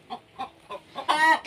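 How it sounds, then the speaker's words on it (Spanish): A hen on a ranch clucks several times in a short even rhythm and then gives a louder drawn-out cackle after laying an egg. It sounds close but fairly soft, and no voices are heard. "Y oigan el cantar de la gallina."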